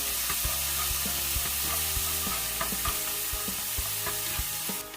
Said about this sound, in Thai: นำลงไปผัดกับกระเทียมได้เลยค่ะ ผัดจนหอมเลยนะคะ